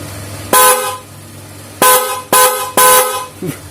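Replica Denso car horn honking: four loud, close blasts, the first one short and the later ones in a quicker burst, with brief quiet gaps between them.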